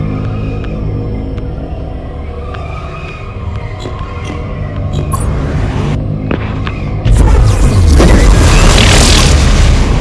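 An explosion destroys a resonator in the mobile game Ingress Prime: electronic game sounds build for several seconds, then a single loud, deep boom erupts and rumbles on to the end.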